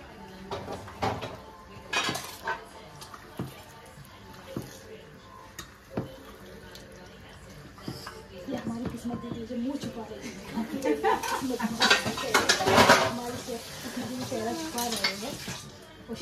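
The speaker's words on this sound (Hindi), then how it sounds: "अच्छे से मिक्स करो।" Chicken Buna masala is stirred and mixed in a pot with a metal spoon, giving a steady run of close scraping and clinking against the pot, with a light sizzle. Voices talk over the stirring throughout.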